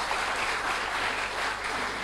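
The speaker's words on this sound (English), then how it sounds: "let's give a big round of applause for Professor Khalil" Audience applause at an applied mathematics conference, a dense continuous burst of clapping from a room full of people, steady and fairly loud throughout.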